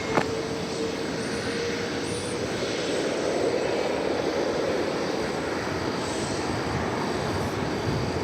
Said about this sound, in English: the arrival of an American Eagle Embraer 175 coming in from Lafayette in Louisiana